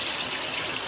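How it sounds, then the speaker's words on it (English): Water pours into a pot of browned oxtail for Jamaican-style oxtail, a continuous close splashing gush with no voices over it. "I'm gonna go ahead and add the water"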